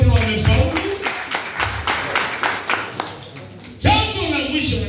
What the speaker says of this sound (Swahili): pigia makofi wote wamefaulu